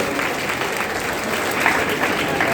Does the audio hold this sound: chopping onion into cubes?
no